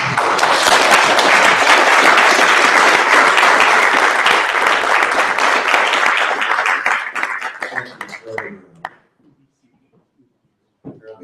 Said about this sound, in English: I think a little applause for the president.